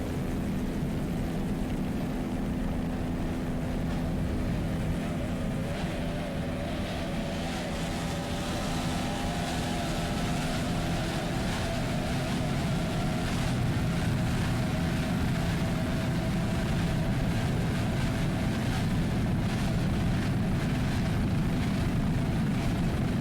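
An offshore race boat powered by three Mercury 2.5 EFI outboards races at the 2002 APBA world championships, giving a continuous loud, droning engine roar that holds steady throughout.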